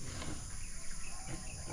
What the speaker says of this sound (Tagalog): ang mga baboy naman nandito na side naman sila